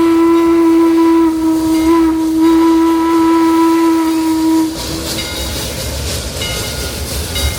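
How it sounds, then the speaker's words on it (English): A Heisler steam locomotive on a redwood forest railway in Santa Cruz, California sounds a loud, sustained steady whistle, which cuts off into a broad rushing hiss of escaping steam, close and strong. "Love the smell of a steam train."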